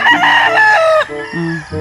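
A gamefarm rooster crows once, close and loud, its call breaking off into a few shorter clucking notes.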